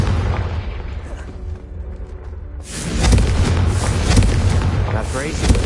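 Confringo fire spell exploding in Hogwarts Legacy: a deep booming blast erupts after a low rumble, followed by a sustained roaring crackle, loud and close.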